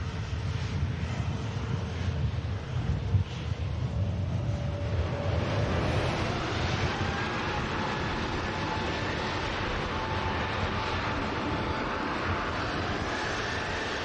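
A BA shuttle Airbus A320neo bound for London Heathrow rumbles steadily at Manchester Airport, a broad low engine roar holding for the whole stretch with a faint rising whine and some wind buffeting.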